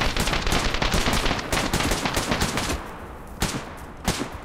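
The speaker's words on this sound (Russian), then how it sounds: "Так, по нам стреляют откуда-то." Rapid automatic gunfire rattles in sustained bursts in the zombie shooter game Dead Raid, loud and dense before thinning to a couple of separate shots near the end, with no talking.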